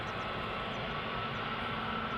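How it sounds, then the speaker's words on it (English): JetBlue Airways airliner departing Amsterdam Schiphol Airport for New York JFK, a steady engine roar that stays level and unbroken for the brief moment, with no talk. "JetBlue Airways going back to New York JFK"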